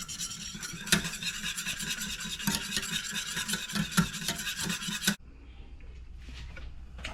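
A whisk rasps rapidly against a bowl while beating bread pudding mixture, a busy close scraping rhythm with sharper knocks that stops abruptly near the end, leaving quiet room noise.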